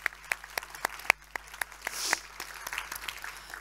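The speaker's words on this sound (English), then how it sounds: "thanks a lot, and applause for the organizers." Audience applause in a concert hall at a conference event in Lund, with scattered, fairly faint claps that thin into a patter, mid-distance and without any voices over it.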